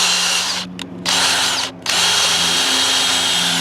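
A drill-driven wood splitting cone runs loud and steady, a continuous high power-tool whine grinding into wood, with two brief dips where the motor eases off before it resumes at full roar.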